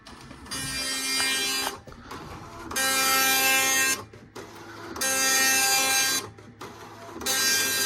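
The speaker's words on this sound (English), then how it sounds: "I drew a picture of our cat, and I'd like to print it for you." A Tandy DMP133 dot matrix printer prints a picture of a cat. Four long bursts of buzzing print-head chatter come through loud and close, each broken by a brief pause as the head returns.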